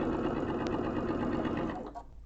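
A sewing machine chain-pieces quilt patchwork at a quilt show, running in a steady continuous whir for about two seconds before slowing to a stop.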